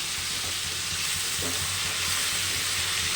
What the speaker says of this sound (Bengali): ডালের বড়াটা দিয়ে দিলাম ছোটো ছোটো করেই ভেজেছি লাউয়ে